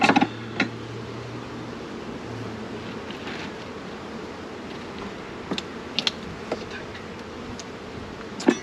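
A swarm of honeybees buzzes in a dense, continuous hum after a full box is dropped, with a sharp thud at the start and occasional close bumps and clicks over the steady drone.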